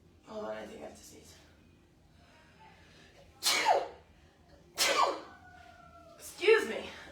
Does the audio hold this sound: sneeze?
yes